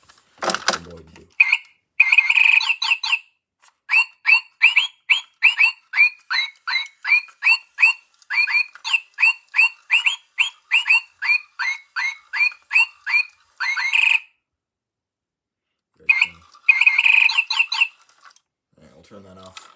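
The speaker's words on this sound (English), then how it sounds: "hit a button, and then the bird will start birding, doing various bird-related things" A toy bird set off by a button press, giving a long run of rapid, repeated chirps and trills, loud and close, with short pauses and then another burst.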